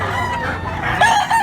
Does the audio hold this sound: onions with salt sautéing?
no